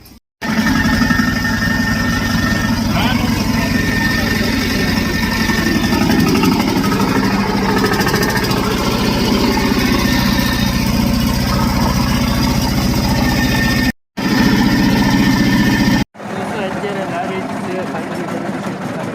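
A tractor engine running on a farm, loud and close, with a steady chugging drone that keeps going with only brief cutouts, as voices talk over it.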